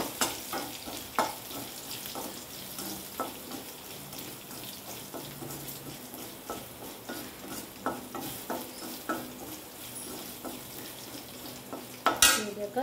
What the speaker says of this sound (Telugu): చూసారు కదా, గార్లిక్ని బాగా వేగనివ్వాలి.